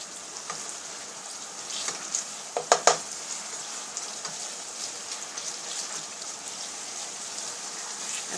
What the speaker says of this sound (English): I'm going to stir it into my sauce.